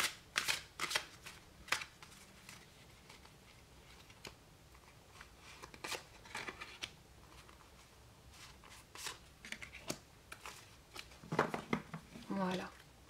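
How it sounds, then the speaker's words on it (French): Oracle cards shuffled by hand in a series of soft, irregular riffling and slapping bursts, close and fairly quiet, with short pauses between them. "Alors on va tirer deux cartes."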